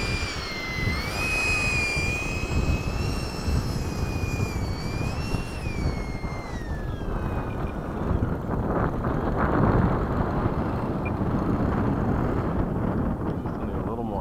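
Red Tail P-51 Mustang warbird with its piston engine running at LFE, a loud steady broadband roar mixed with wind buffeting, with whistling tones fading in the first half and voices talking nearby.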